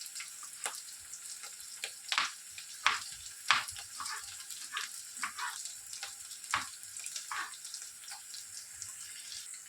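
Onions fry in a pan for bitter gourd curry with a continuous soft sizzle, broken by scattered crackles and pops and a few louder spitting bursts, close and steady with no voices.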